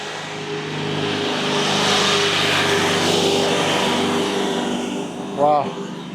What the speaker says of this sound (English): that truck had a huge amount of cinder blocks in the back. It sounded like that thing was in first gear.